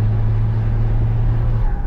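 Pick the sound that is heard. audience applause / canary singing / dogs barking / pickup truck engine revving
pickup truck engine revving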